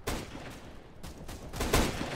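Gunfire in CS:GO, a few sharp shots popping out over a busy game background, with the strongest burst near the end of the short stretch.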